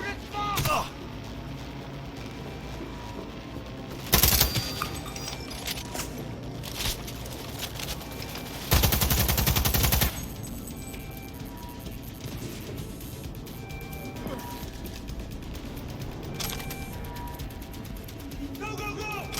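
Bursts of gunfire in the video game Cyberpunk, two loud volleys standing out over a busy, continuous game soundscape of action and effects, with shouted voices in the mix.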